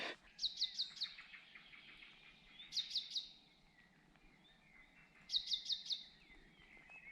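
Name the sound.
birdsong on a hiking trail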